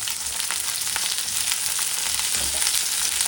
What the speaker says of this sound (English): we're just sauteing it with the spices